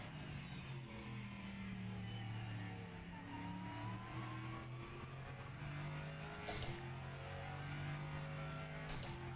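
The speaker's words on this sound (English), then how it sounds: "Cars sound fantastic." LMP3 prototype race cars at Sebring in rFactor 2 drone steadily, their engines rising and falling in pitch as they accelerate and shift, with one sharp burst partway through.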